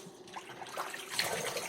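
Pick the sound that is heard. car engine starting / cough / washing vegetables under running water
washing vegetables under running water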